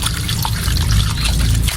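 Water poured over eggshells to rinse them, a close, steady splashing pour that runs without a break.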